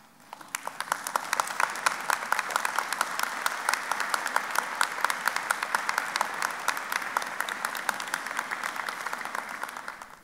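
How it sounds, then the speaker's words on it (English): Sustained applause from a standing audience at a 2018 university public policy school commencement ceremony, dense steady clapping filling the hall for about ten seconds with no talk over it. "So please stand and give them a round of applause."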